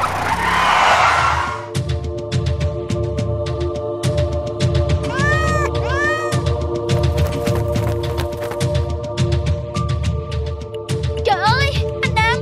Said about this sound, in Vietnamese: Trời ơi, anh Nam, con mèo nó bị thương rồi.